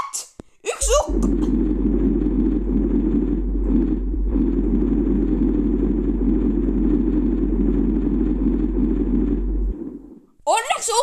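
A long, heavy thunder-like rumble in the video game Solar Smash, a dense steady roar with a deep low hum running nearly ten seconds, with brief voice sounds at the start and end.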